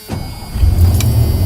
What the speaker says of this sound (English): I know the truck is loud